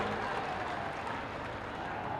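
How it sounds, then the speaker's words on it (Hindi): A crowd at a public event in Bhadohi applauds to welcome the chief minister, producing a dense, continuous wash of clapping at moderate level that holds steady throughout the brief moment, with no distinct voices. "तालियों के गड़गड़ाहट से स्वागत करते हैं"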